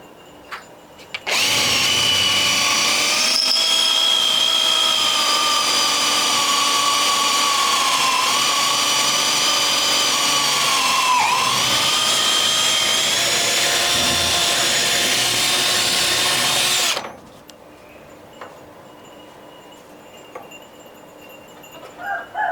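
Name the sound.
power drill pinning wood pieces together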